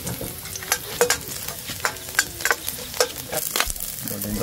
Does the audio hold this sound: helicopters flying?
no